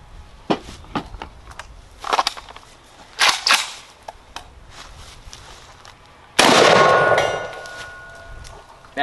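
A JTS AK12 T1 shotgun loaded with Winchester 7.5 shot is handled outdoors with a few sharp metallic clacks, then lets off one loud, close blast that rings and decays for a couple of seconds.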